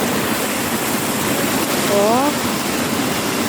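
Burayok Falls pours in a dense, steady roar of rushing water, close and loud throughout, with a brief faint voice surfacing over the torrent.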